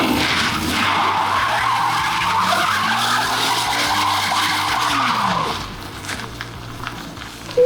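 A Mercedes-Benz SL320 with an unwelded differential doing a burnout, its tires squealing loudly and continuously for about five seconds, with the engine roaring underneath, then the squeal stops and a quieter idle follows.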